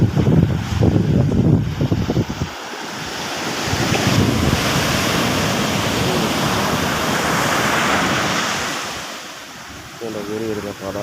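Sea waves surge in onto the shore with foam, a close, continuous rushing wash with wind buffeting the microphone, swelling and easing over several seconds.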